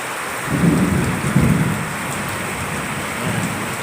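Steady rain falls over a farm field newly planted with saba banana, with a low rumble of thunder rolling in the distance and swelling briefly before fading back under the rain.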